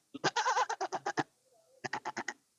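A man imitates a billy goat's bleat with his voice, two rapid bursts of stuttering, pulsing bleats separated by a brief pause, loud and close.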